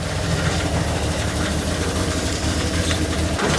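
A steady low engine idle rumbles on without a break, loud and close, over broadband outdoor noise.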